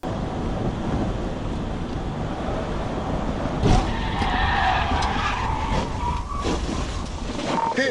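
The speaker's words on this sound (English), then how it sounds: "The pit maneuver was done" A police car pushing a stolen car into a PIT maneuver during a high-speed pursuit, its tires skidding loudly in a long, close screech amid heavy wind rush.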